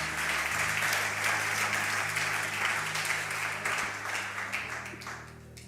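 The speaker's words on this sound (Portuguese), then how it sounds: "Aplaudam a Jesus mais forte." A church congregation applauds loudly and continuously for several seconds over sustained organ-like chords, then the clapping thins toward the end.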